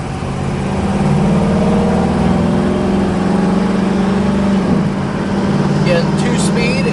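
A 1968 Chevrolet Camaro with a 2-speed automatic transmission drives along steadily, its engine droning at a constant pitch and dipping briefly near five seconds as a gear shifts smoothly, then settling back.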